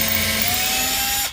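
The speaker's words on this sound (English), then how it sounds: "A little pre-drill so we don't split the solid real wood." A power drill bores a short pilot hole into solid wood when fitting a latch on a cabinet face of a teardrop trailer, a brief steady whine ending with an abrupt stop.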